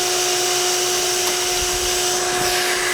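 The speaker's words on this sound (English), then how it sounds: "So once I plug this in, this is the shop vac." A shop vac plugged into an inverter setup runs with a steady, loud motor whine and airflow roar, continuous and close, with no talking over it.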